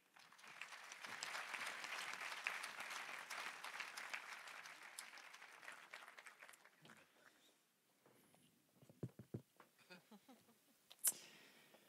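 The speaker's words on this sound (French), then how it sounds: "Sous vos applaudissements, s'il vous plaît." Audience applauds a speaker at a debate, a sustained wash of clapping that fades after several seconds into scattered individual claps, footsteps and small sounds as the room settles.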